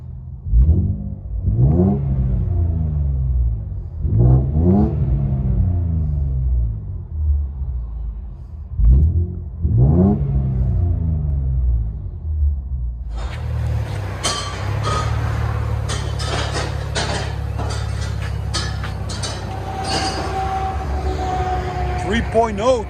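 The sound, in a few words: Infiniti Q50 S 3.0L turbo with MBRP cat-back exhaust, from inside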